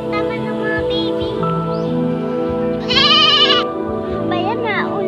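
Goats on a farm let out a loud, wavering bleat midway through. Voices and a steady background tone continue throughout.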